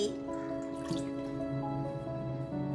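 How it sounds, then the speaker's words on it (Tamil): Water trickles and drips quietly into a container in a short, soft pour while making Chettinad fish curry, with a faint background hum. "கொஞ்சம் தண்ணி ஊற்றி"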